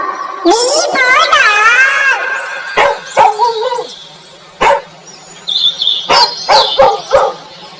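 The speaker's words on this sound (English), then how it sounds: "D for dog." A dog barks in short, repeated yips and woofs within a children's phonics song, with a high child-like voice and musical sweeps sounding around the barks.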